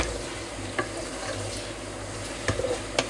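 Filipino chicken adobo simmering in a pan, a quiet low sizzle with a few brief clicks and knocks near the end, no speech.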